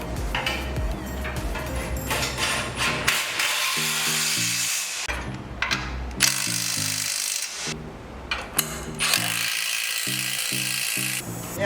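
A Toyota 90 Series Prado bull bar's mounting bolts are tightened with a tool in bursts of whirring, rattling mechanical noise, close and fairly loud, with a few short pauses between runs and no talk.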